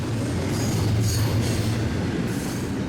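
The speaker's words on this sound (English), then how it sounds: "this eastbound BNSF stack train on track number 2, passes" An eastbound BNSF double-stack freight train rolls past on track 2 at Fullerton, a steady loud low rumble of wagons with faint wheel squeal and clatter, no voices.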